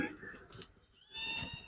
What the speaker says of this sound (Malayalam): പൂച്ചക്കുഞ്ഞു വന്ന് കരയുന്നുണ്ട്.